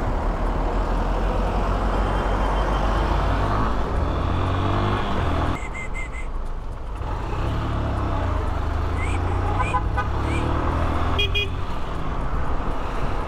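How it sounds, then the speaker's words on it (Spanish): A few short car horn beeps sound over loud, steady road traffic rumble, with voices talking nearby. "Si tocan bocina, yo te toco bocina."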